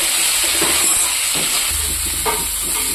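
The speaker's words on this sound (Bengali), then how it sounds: "ফুলকপিটা খুব লাল লাল করে ভাজা করে নেব।" Cauliflower frying in hot oil for a desi sabji, making a loud, steady sizzle with a few bubbling pops and low thumps of movement in the pan.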